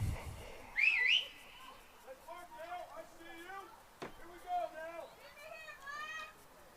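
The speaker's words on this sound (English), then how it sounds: "And the whistle blows." A referee's whistle gives one short, sharp trilling blast during a college field hockey game, heard under steady play-by-play commentary from a male announcer.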